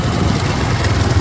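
Three motorcycles idling together on a concreted road through the Nikli haor in Kishoreganj, a steady low engine rumble running continuously and fairly close, with no talk over it.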